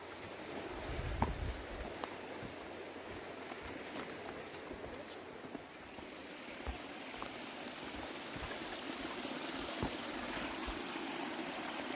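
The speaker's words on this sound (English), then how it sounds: "Cute little creek." A small creek along the Lake Superior Coastal Trail trickling and burbling softly and steadily, faint and close, with a brief rustle of movement near the start.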